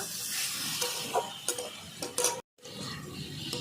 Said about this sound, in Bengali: হলুদ গুঁড়ো এভাবে ভালো করে আগে আমি একটু ভালো করে নাড়িয়ে চাড়িয়ে নেব